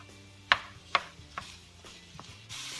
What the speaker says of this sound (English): go ahead and just break up the meat